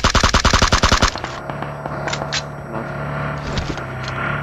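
Rapid bursts of automatic gunfire in a battle royale video game, about a dozen loud, sharp shots in quick even succession, then a lingering hum with faint distant pops and clatter.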